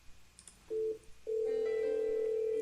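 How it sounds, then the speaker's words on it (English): A Cisco lab IP phone in a CUC SIP integration setup plays call tones: a short tone burst, a pause, then a long sustained ringback tone, with faint clicks before it and no talking. "All right, so we got it ringing."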